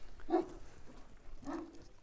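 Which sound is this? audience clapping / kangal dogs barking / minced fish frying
kangal dogs barking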